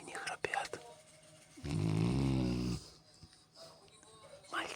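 A boy snoring: a single loud, rasping snore in the middle, with quieter breathy sounds and faint rustling on either side, heard close up.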